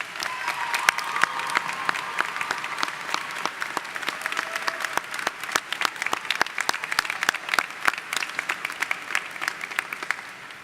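A large audience at a college commencement ceremony claps steadily and continuously, a dense, sustained wash of applause from start to finish with no speech over it.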